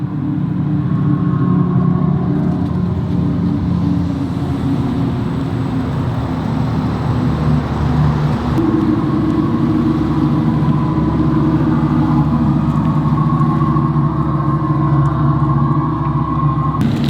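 Continuous low whirring hum of an Audi e-tron GT electric car running close by, a steady drone with a slight shift in pitch partway through and no pauses.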